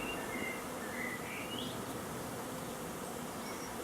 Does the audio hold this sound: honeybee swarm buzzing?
yes